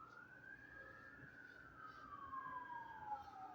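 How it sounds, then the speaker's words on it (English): A distant siren wails outside, its pitch gliding up and down as it passes, faint beneath a low background rumble. "I don't know if you can hear sirens."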